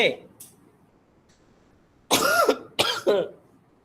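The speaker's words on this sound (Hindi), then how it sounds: "यार खांसी हो गई, पता नहीं क्यों हो गई यार" Two loud, close coughs, a short pair and then another pair after a pause, following a brief quiet stretch.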